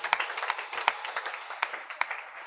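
Congregation at a church worship service clapping along in a steady, sparse rhythm, hand claps popping out individually rather than as a dense ovation, with no voices over it.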